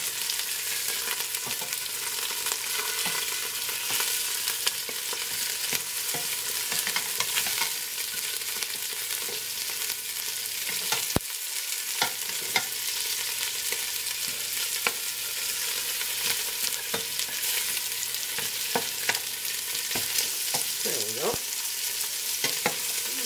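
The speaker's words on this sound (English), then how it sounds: "Continue searing, and then we'll remove these and continue with the rest." Meat searing and sizzling in a pot for a bean stew, a steady hot frying crackle with occasional stirring and scraping clicks throughout, close and continuous with no talking.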